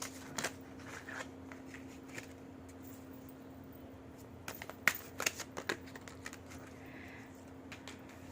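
Tarot cards shuffled and drawn one by one for a pick-a-card reading, heard as soft papery riffles and light flicks over a steady low hum, with a louder cluster of snaps midway.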